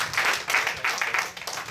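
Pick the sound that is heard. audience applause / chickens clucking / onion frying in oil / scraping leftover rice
audience applause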